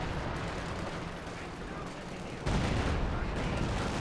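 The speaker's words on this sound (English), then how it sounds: "Detonates a booby trap, killing the Obslassen." A booby trap detonates during a Company of Heroes 2 battle, a sudden loud burst that lifts the level of an already dense wash of gunfire and combat noise, with a commentator talking over it.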